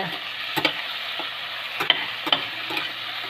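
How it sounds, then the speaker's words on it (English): Chopped tomatoes and onion frying in a pan make a continuous hiss while a spoon scrapes and stirs in several quick strokes, close and fairly loud, with no talking. "I'm going to fry along with the onion and"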